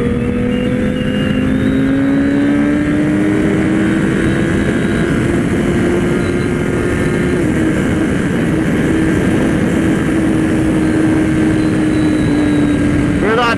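Kawasaki Ninja ZX-10R sport motorcycle accelerating hard on a track, a loud, sustained high-revving engine drone with a rising pitch, steady and continuous throughout and close to the listener, with no clear gaps or shifts.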